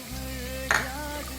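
Finely chopped onion dropped into a hot pan to sauté sets off a brief burst of sizzle that settles back under a steady, low hiss and hum. The sound is close and short.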